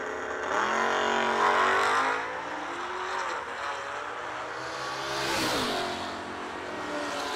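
Drag race cars launching at the Yellow Bullet Nationals streetcar shootout, with loud engines roaring and climbing in pitch through the gears, then fading and swelling again as another surge passes, and no talking.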